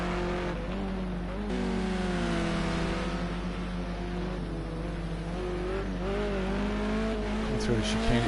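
A BMW race car running through a chicane, its engine droning and shifting pitch as it brakes and turns, heard from a distance beneath steady race commentary.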